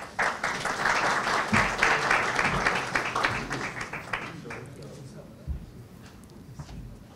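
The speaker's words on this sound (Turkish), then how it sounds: "Sayın Oğuz Güner geliyor plaketini almak üzere. Alkışlarınızla" Audience at a natural stone and mining sector meeting applauds a plaque presentation, a dense burst of clapping that swells and then fades out, followed by a few scattered claps and room noise.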